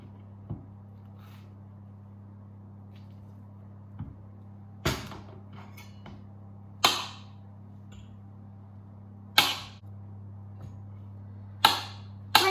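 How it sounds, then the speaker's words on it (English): Knife chopping bananas on a board for a bonfire banoffee pie, heard as sharp isolated chops spaced a second or two apart, close and fairly loud over a steady low hum. "we're just going to keep going until we have chopped up all of the bananas"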